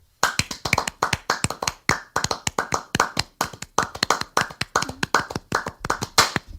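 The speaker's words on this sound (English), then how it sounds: "Just clap." A single person's bare hands clap out a lively, syncopated rhythm up close, sharp, evenly loud strikes in quick groups with short gaps, and no other sound.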